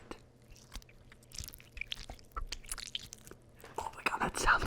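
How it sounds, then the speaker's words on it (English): Wet, squishy squeezing of an aloe vera leaf up close, gooey crackles building in intensity, with soft whispering in the background. "I'm gonna squeeze it"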